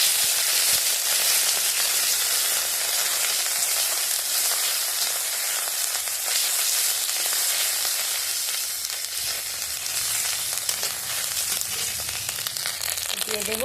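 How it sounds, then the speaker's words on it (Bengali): Ginger paste frying in hot oil in a wok with bay leaf, dried red chilli and whole cumin, a loud steady sizzle that fills the whole stretch with faint scraping, no talk. "তো আমি দিয়ে দিচ্ছি আদা বাটা"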